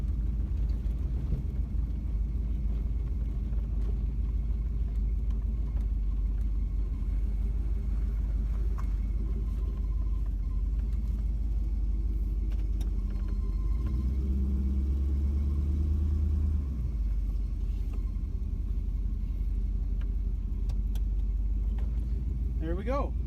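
Chevrolet Camaro engine idling smoothly with a steady low rumble, close by and continuous, swelling briefly in a slight rev midway.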